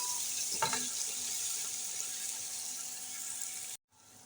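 Ginger garlic paste sizzles in hot oil in a pressure cooker while being stirred, a steady close frying hiss with a soft scrape of the spoon early on, cutting off abruptly near the end.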